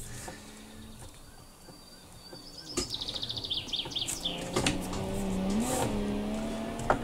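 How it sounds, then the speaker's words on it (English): In a BeamNG/My Summer Car rally stage, a car's wheels lock under braking, giving a rising tire squeal and rapid chattering over steady engine and road noise, growing louder toward the end with no talk. "And a bit of a wheel lock there."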